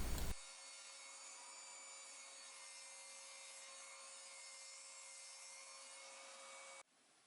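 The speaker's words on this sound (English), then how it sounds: "Here I am cutting the 2 long sides." Saw cutting along the long sides of a 1-inch-thick cedar board, giving a steady, even whine of cutting noise held for several seconds at moderate distance, then stopping abruptly.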